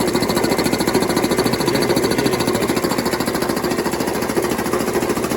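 A 1962 Comet high-volume air compressor running, with a loud, close, rapid rhythmic pounding and rattling that stays steady throughout, and no voices.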